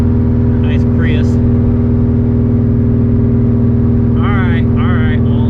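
A Subaru STI's loud engine drones steadily inside the car while driving, a constant low rumble throughout, with brief voices and chatter over it.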